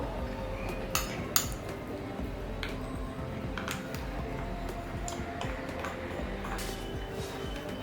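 A utensil mixing butter and oil in a bowl, with faint steady scraping, occasional light clinks of metal against the bowl and a couple of sharper knocks near the start, fairly quiet and close, with no talk.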